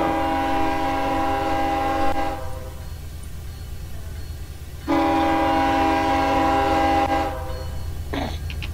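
Two long, loud blasts of a custom multi-tone K5HL train horn in the train simulator game Run8, over a constant low rumble of a moving train, separated by a short gap.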